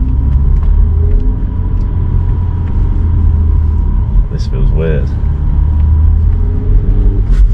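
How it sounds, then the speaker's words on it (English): A car driving with its straight-piped exhaust taken off, giving a subdued, steady low engine rumble and road drone. A person talks over it. "I have a quiet car."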